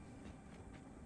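A train in the factory-building game Satisfactory rumbles along the rails, a faint, steady low rolling noise with soft clatter, heard alone.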